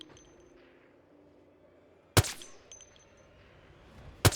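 Two sharp Project Zomboid gunshots crack out loud and separate, the first a couple of seconds in with a short ringing tail and the second near the end, over quiet game ambience.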